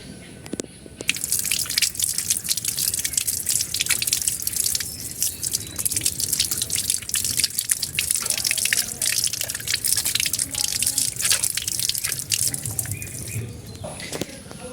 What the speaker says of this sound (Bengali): আমি এখন শসার আগে ধুয়ে নিই